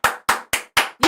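A head coach at a Ravens–Chiefs football game claps his hands five times in a steady rhythm, each sharp, close and loud, with no talk over it.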